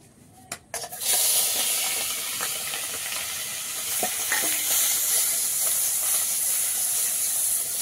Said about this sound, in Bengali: তো এই মাছটা আগে ভেজে নেব।